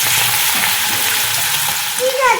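Cumin seeds and garlic hitting hot cooking oil in a pan, giving a loud, steady hiss and sizzle of frying that fills the whole short moment, close by.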